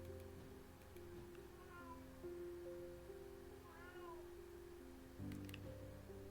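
Cat meows from the video game Strange Antiquities, a few short mewing calls rising faintly over a steady low musical background with no talking.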